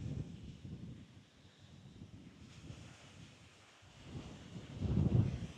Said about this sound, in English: We're into a strong wind as well